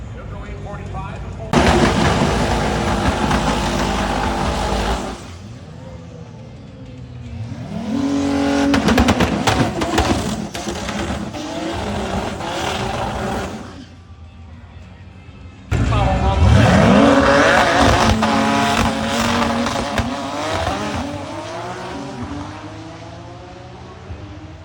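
Street cars launch down a drag strip at a race event in loud, roaring runs separated by brief lulls, engines revving and sweeping upward as each pass speeds away.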